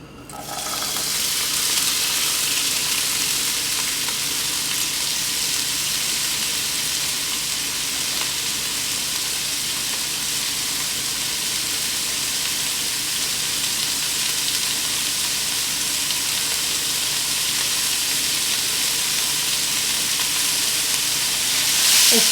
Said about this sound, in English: Add olive oil, enough to fry the peppers and the onions.